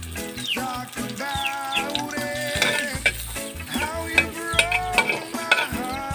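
Garlic fries in a small amount of oil in a pan for a native chicken dish, giving a continuous sizzle with stirring clinks, under busy background sounds that include birdlike tonal chirps.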